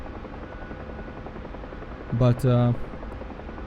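A UH-1 Huey helicopter in the flight simulator DCS drones steadily at a constant level throughout, with a voice speaking briefly over the rotor noise near the end.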